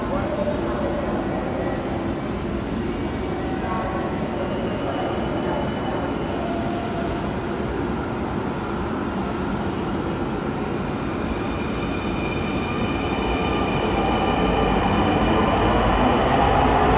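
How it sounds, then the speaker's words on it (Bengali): A metro train at Bijoy Sarani metro rail station in Dhaka gives a steady loud rumble with wheel hiss, building slightly toward the end. "বিজয় সরণির এই মেট্রো রেল স্টেশনটিতে"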